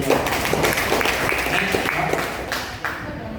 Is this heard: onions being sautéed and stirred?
no